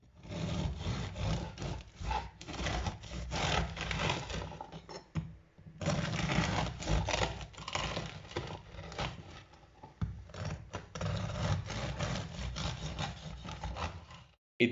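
A knife sawing through a crusty loaf of basil and oregano herb bread, with long, loud, scratchy crunching strokes close up, pausing briefly between passes.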